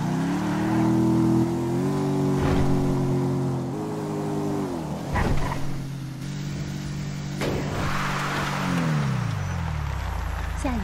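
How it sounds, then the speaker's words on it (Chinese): A virtual SUV engine in the video game GTA5 revs steadily while the vehicle climbs a hill, holding a loud droning tone that shifts pitch in steps as it accelerates, with no talking. "这发动机声音是一个比一个响"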